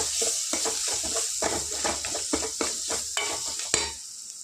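Chili and turmeric fry in a pan for tamarind rasam, with steady sizzling under repeated scraping stirs and a clatter of the spoon against the pan near the end.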